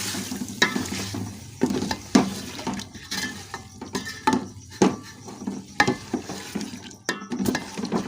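Potatoes sizzling in a hot pan while being stirred, with a continuous frying hiss and a series of sharp scrapes and clinks of a utensil against the pan, close up with no talk.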